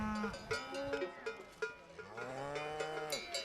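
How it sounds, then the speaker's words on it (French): Cattle on a mountain transhumance low in long, deep calls while cowbells clank irregularly around them, several animals sounding at once at close to middling distance. "Bientôt, le silence est troublé par des meuglements lointains."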